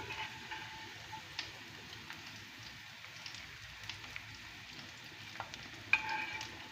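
Garlic sizzles softly in oil in a pan, a faint continuous crackle with small pops and occasional stirring clicks.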